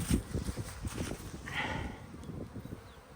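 Honeybees flying around the hives at an apiary during their first full cleansing flight of the season, a steady soft buzzing of many insects close by with no talk.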